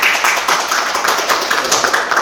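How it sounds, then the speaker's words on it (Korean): Audience at a Korean policy forum on the Serious Accidents Punishment Act gives a steady round of clapping, a dense, even patter of many hands held for a couple of seconds with no voices over it. "큰 박수 부탁드리겠습니다"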